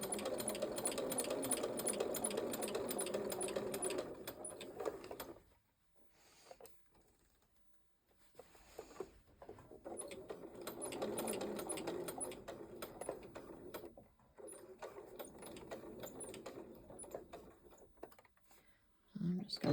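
Sewing machine stitching a Y-seam in a quilt block: a fast, close mechanical whirr in runs of several seconds, stopping briefly for pauses with faint handling noises, then resuming.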